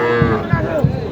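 A cow lows loudly and close by at a village cattle market, a single drawn-out moo with dull, regular thuds in the background.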